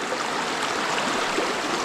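A river flows with a steady, dense rush of water at close range, even and unbroken for under two seconds, with no voices over it.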